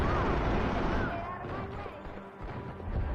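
Grenades detonate in multiplayer Max Payne 3, heavy and booming. The rumbling blasts overlap in a dense, continuous barrage that fades slightly and then swells again, with faint game sounds above.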